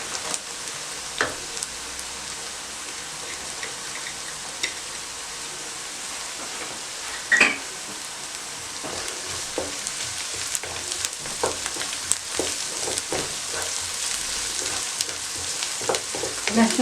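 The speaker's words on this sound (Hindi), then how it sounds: "लहसुन को आपने हल्का सा फ्राई करना है" Garlic frying in a pan for a vegetable macaroni rice dish, a steady close sizzle and crackle throughout with occasional stirring scrapes and one louder clatter.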